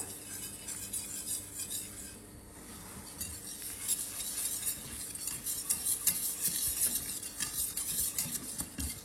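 A roux of flour stirred into fully melted butter over medium heat, a steady scraping and swishing of the spoon in the pan with a soft sizzle and occasional clinks of utensil on metal, close and continuous.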